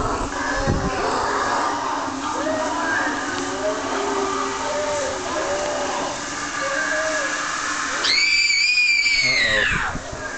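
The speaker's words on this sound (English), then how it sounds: "Screams." Inside a haunted forest attraction, people scream and shout over a constant loud hissing roar, with a long high shriek rising near the end.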